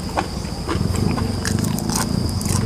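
Someone eats koi, a raw Isan dish, with close, wet chewing and crunchy bites repeating in an uneven rhythm against a steady background hum.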